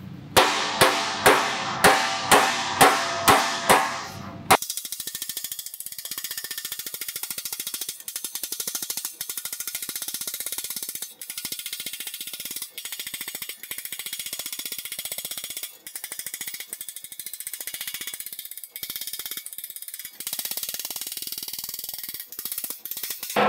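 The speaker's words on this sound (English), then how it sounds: "So we're gonna hit it straight down over the edge of the bench." A firewall panel for a 1960-66 GMC/C10 pickup is hammered straight down over a bench edge: a quick run of about eight sharp metallic blows, then a long stretch of ringing, clattering workshop noise.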